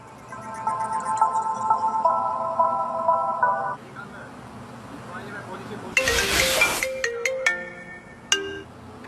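A phone rings with a repeating electronic melody as an outgoing call, then stops; a burst of noise follows, with voices and scattered sharp sounds.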